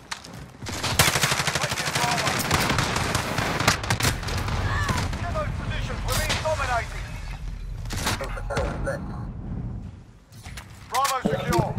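Video game gunfire in a Domination match, dense rapid bursts of automatic shots and sharp cracks almost continuous and close, with players talking over the shooting.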